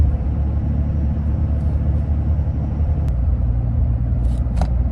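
A Dodge truck with a 48RE automatic transmission on a test ride, its engine and road noise making a steady, loud interior rumble throughout, with a couple of faint higher clicks.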